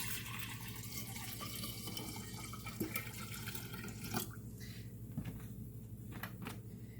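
Juice pours into a kombucha bottle for a second ferment, a soft, close trickle of liquid with faint drips and a couple of light clinks, fairly quiet overall.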